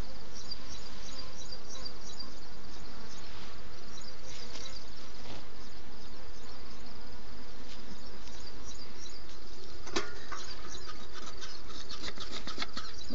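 Honeybees buzz steadily inside an open hive as they work honey in the comb, a dense, close hum filling the whole stretch with small clicks and bumps from the frames.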